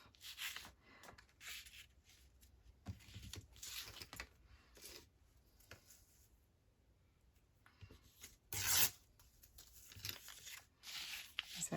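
A piece of paper torn by hand for a paper-pocket craft, heard as a series of quiet, dry ripping bursts with one sharper, louder rip near the end.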